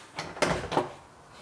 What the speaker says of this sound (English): Well, I got the doors working too.